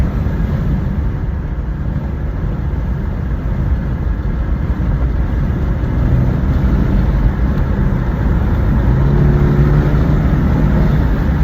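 A 2023 BMW 230i driving on the road, its engine giving a loud, steady drone with road and cabin rumble that swells slightly partway through as it pulls harder.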